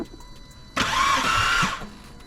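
Close, loud whirring of the engine of a cheap Audi TT being cranked by the starter, suspected of having bent valves, running for about a second in a quiet workshop without catching, then stopping.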